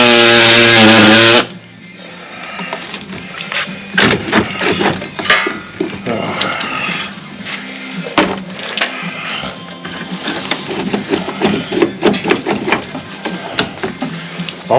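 A small hand hacksaw cuts through rusty cab corner metal on a 2002 Ford F350, a rapid series of rasping strokes in uneven rhythm, close and fairly loud after a brief opening burst of other noise.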